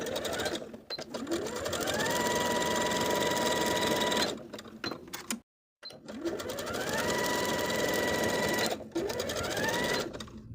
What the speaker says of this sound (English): we'll top stitch those slanted edges in place using your preferred stretch stitch, a twin needle, or your cover stitch machine